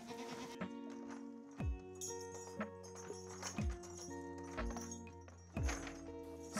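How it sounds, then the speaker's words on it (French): Goats at a dairy goat farm's milking platform bleat repeatedly, several loud, quavering calls spaced a second or two apart over low barn murmur and hoof shuffling. "C'est des chèvres, donc c'est taquin."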